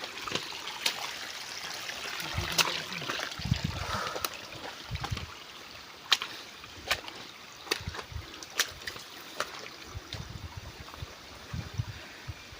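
Water trickles and drips at a drinking-water spring in a virgin forest. The sound is quiet and soft, with scattered sharp little splashes and clicks over a faint, constant flow.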